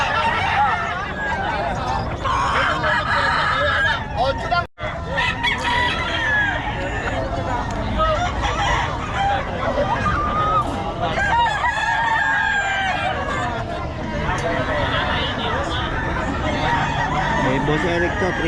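Roosters crow again and again at a gamefowl farm, mixed with clucking from many birds in a busy, dense yard while people talk nearby throughout.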